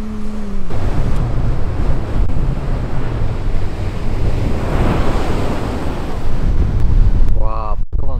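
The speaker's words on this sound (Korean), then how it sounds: "와, 파도가 엄청납니다." Loud surf crashing continuously on a beach near a lighthouse on Korea's east coast, a steady roar of breaking waves mixed with wind buffeting the microphone, with a brief voice at the start and another near the end.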